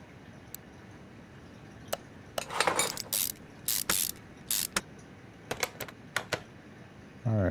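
Brake pads and calipers are installed in Car Mechanic Simulator 2021 as a string of sharp mechanical clicks, ratchet-like bursts and clunks, close and irregular, with a final thud.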